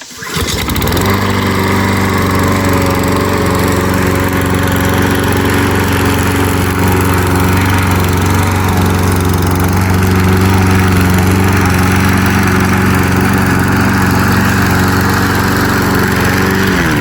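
A lawn mower engine with a freshly sharpened blade starts about a second in and then runs loud and steady at a constant pitch, with no talking.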